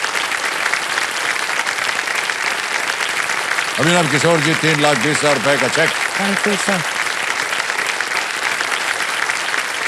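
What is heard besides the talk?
studio audience applause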